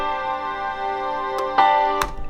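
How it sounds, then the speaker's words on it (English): Grand piano and soft pad chords ring together in sustained layered tones, with a few sharp clicking attacks toward the end of the short passage. "I've been using grand piano and pad as one of them, which sounds like this."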